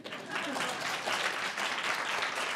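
Audience members at a university speaker event applaud in a moderate, even wash of clapping, heard from a distance in the hall, with some crowd murmur underneath.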